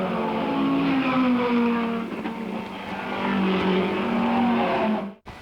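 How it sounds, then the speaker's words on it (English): Vintage racing cars roar around the Mallory Park circuit in a close lead battle, one a Cooper, engines droning loud and continuous with rising and falling pitch as they pass, then cutting off abruptly at the end. "Brian Naylor coming into his last lap, hard pressed by Tony Marsh in the Cooper"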